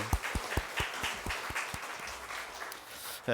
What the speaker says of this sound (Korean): 우리 축복하면서 박수 한번 할까요?